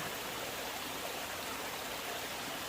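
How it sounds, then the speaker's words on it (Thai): A waterfall beside a walking path up to the Piyamit tunnel in Betong, heard as a steady, faint rushing hiss of falling water with no talking. "สองข้างทางที่เดินขึ้นไปนะคะ มีน้ำตก ชุ่มฉ่ำเย็นตลอดเส้นทางเลยค่ะ"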